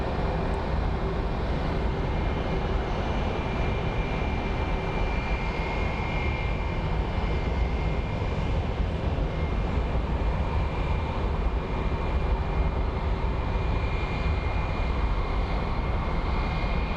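Airplane landing at Phoenix Sky Harbor International Airport: a steady, loud, broadband engine roar with a faint whine holds evenly for the whole stretch, with no talking.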